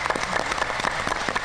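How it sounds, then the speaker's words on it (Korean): Group clapping with fingertips touching, done as a dementia-prevention exercise in a seated class, with a dense, steady patter of many hands throughout and no talk. "손가락 끝이 닿게 박수 치는 거예요"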